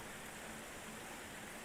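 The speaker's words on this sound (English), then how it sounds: "A little louder rain." Steady, faint rain hiss as a sound-effect ambience, evenly spread broadband wash with no distinct drops or breaks, alone without voices.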